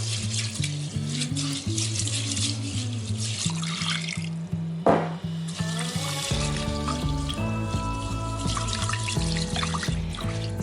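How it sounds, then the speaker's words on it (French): Rice being rinsed under a running kitchen tap, a steady splashing water stream that continues throughout while music plays loudly over it; nobody speaks. "Très important de rincer votre riz"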